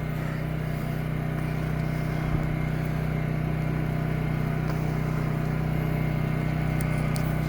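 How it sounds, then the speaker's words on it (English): A Champion dual fuel generator running steadily, a loud continuous engine hum with a constant low drone and no change in pitch, heard alone throughout. "the generator's ran for a little bit, so we can put a draw on it now"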